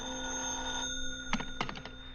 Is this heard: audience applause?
no